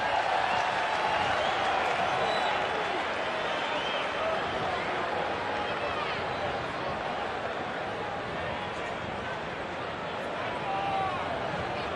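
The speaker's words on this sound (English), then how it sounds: "And the Bronx cheer from the north side crowd" Baseball crowd on the north side of the stands gives a Bronx cheer after a strike, a dense, continuous wash of jeering and crowd noise that stays loud and steady throughout, with a voice talking over it.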